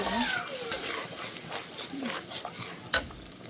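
Onion, chili, ginger and cumin paste frying with ground spices, heard as a steady close sizzle with stirring scrapes and a couple of sharp utensil clinks against the pan.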